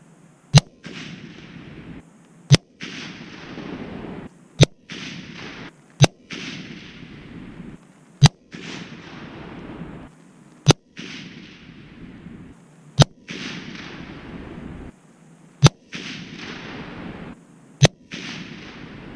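A Savage 110 Long Range Hunter rifle chambered in 338 Lapua Magnum fires 300-grain Lapua Scenar rounds outdoors: nine loud, sharp shots at uneven intervals of about two seconds, each followed by a rumbling echo that fades before the next.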